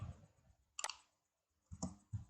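Keyboard keys are pressed for a copy shortcut, a few quiet, sharp clicks spaced apart, close and without talk.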